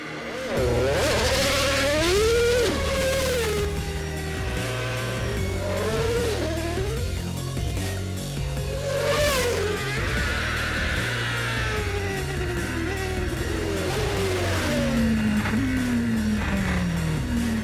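A Formula 1 car engine accelerates repeatedly, the whine climbing and dropping through gear changes, loud and sustained over a low background drone.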